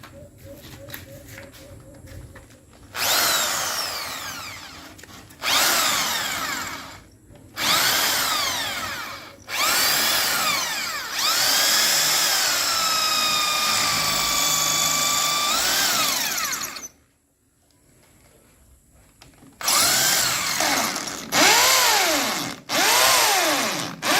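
Power drill running in bursts during rainwater gutter and tank work at a house, repeated loud whines that rise and fall as the trigger is squeezed, with short pauses and a longer quiet gap between runs.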